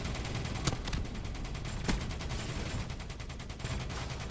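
Sustained gunfire in a ground-war video game battle around a mothership, a dense, continuous volley of shots with a few sharper cracks standing out, loud and close with no talking.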